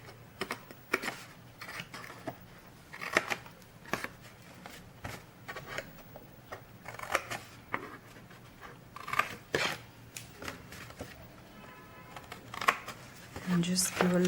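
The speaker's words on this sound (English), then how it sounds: "so I'm going to just cut off the little corners" Little corners being cut off the top piece of a paper box, heard as a close series of crisp, irregular snips and paper rustles spread across the stretch.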